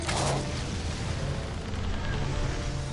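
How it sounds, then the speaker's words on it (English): A video-game explosion in Dungeon Defenders II opens with a loud burst, then a sustained rumbling roar of blasts and battle noise that carries on steadily at close range. "Oh yeah, explosion."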